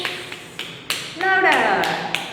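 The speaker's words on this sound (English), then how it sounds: "If you are happy and you know that, clap your hands" Children clap their hands in a classroom with a teacher, a few scattered sharp claps, then a louder burst of clapping mixed with young voices calling out.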